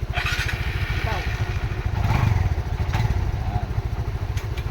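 A manual-clutch motorcycle engine runs roughly and sputters as a learner works the clutch, a steady close chugging throughout, with people talking over it.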